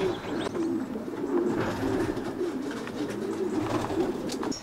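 Racing pigeons cooing in a brick double-decker loft: repeated low, soft coos from several birds, fairly close, over steady background noise and rustling.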